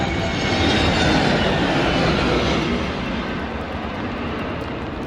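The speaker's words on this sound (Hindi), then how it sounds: "चेन्नई एयरपोर्ट पर विमान की लैंडिंग की कोशिश की गई, लेकिन खराब मौसम की वजह से लैंडिंग नहीं हो पाई।" An airliner roars loudly and steadily while attempting to land in cyclone weather at Chennai Airport, a broad, continuous engine rumble with wind noise that eases slightly after a few seconds.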